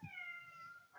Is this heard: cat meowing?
yes